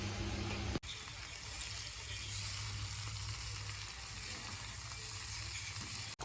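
Two eggs frying in a home kitchen pan, a steady close sizzle that runs on through the whole stretch with faint stirring clatter and no talk.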